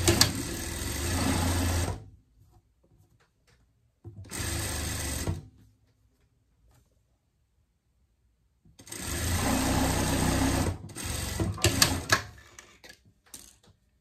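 An electric sewing machine stitching a seam on a pet dress, running in three loud, steady whirring bursts, the last one longest, separated by near-silent pauses.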